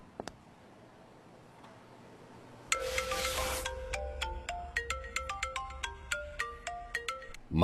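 A phone ringtone plays on and on with no one answering, a bright repeating melody of sharp plucked tones that starts suddenly after quiet and continues loud and steady to the end.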